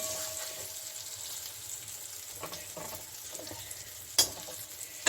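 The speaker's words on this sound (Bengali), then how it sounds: "সাবধানে নাড়াতে হবে, নইলে বেগুনগুলো ভেঙে যাবে।" Fried eggplant pieces are gently stirred in a spiced masala in a pan, giving a soft, continuous sizzle with light scraping and stirring clatter and a couple of sharper knocks near the end.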